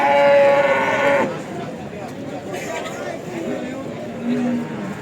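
A cow at a livestock market in Jatirogo, Indonesia, lets out a loud, drawn-out moo at the start, followed by quieter lowing and background chatter from nearby people.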